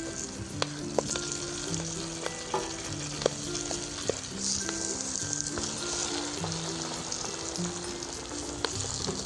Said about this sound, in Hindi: और इनको भी हम भून लेंगे प्याज में।